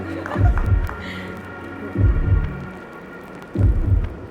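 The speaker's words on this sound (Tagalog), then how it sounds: "Oh, may heartbeat pa." A loud, slow heartbeat with three evenly spaced double thumps, deep and booming, over a low hum.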